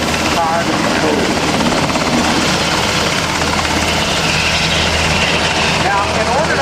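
Blackhawk and Huey helicopters at a 2009 Rhode Island Air National Guard open house make a steady, loud rotor and engine roar that never lets up, while an announcer talks over it.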